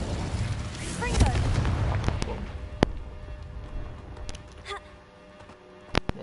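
Confringo explosive spell going off in Hogwarts Legacy: a heavy, booming blast early on with rumbling debris, followed by sharper cracks and a final loud snap, with a faint voice over the game noise.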